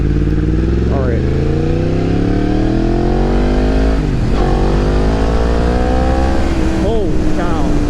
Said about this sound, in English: That exhaust note.